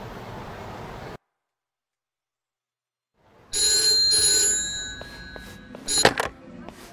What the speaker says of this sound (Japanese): 俺宛に電話がかかってきた。